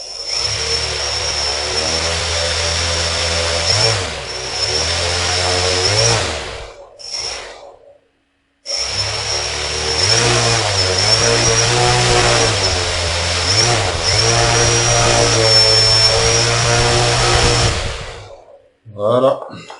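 Propellers of a small Arduino-built bicopter drone spin up loudly with a steady whirring hum, cut off briefly midway, then return at full speed for a long sustained run before stopping.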